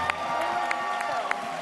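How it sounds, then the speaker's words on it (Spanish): A crowd cheers and claps loudly in a brief burst, with scattered shouts rising over the noise. "¡Aplauso!"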